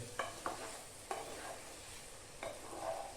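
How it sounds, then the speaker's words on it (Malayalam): Onions sautéing in a pan for a chicken dish cooked with cow's milk, a steady close sizzle with a few sharp scrapes of stirring at irregular intervals, no voices. "ആദ്യം സവോള ഒന്ന് മൂത്ത് വരണം ഒന്ന് ഇളക്കുക സവോള ഒന്ന് മൂത്ത് വരട്ടെ"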